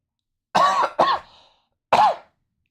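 Three sharp coughs close to the microphone: two in quick succession, then a pause and a third, with silence around them.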